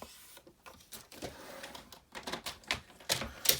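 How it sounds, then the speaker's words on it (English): Card stock trimmed to length with a paper trimmer for a handmade friendship card, a run of close irregular clicks, slides and cutting strokes, fairly loud with a sharp snap at the end and no talking. "So the first thing I'm going to do is trim this to the right length"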